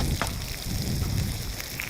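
Chicken pieces fry in a pan for Pallipalayam chicken fry, a continuous crackling sizzle with a few sharper pops, fairly close and loud, with no voices.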